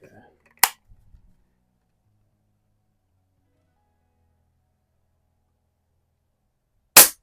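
An Umarex NXG APX multi-pump air rifle fired at a target seven yards away: two sharp, loud cracks several seconds apart with near silence between, after brief talk at the start.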